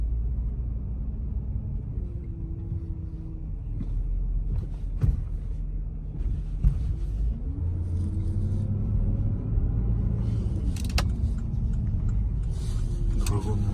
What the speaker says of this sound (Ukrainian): Набирає автомобіль швидкість дуже добре